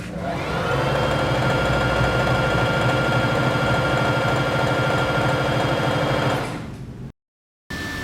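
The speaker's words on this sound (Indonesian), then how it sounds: "Walaupun suaranya tipikal khas mesin jahit, tapi suaranya lebih refine" A Juki HZL-353Z sewing machine runs steadily at full speed with a dense, even mechanical whir for several seconds, then stops abruptly.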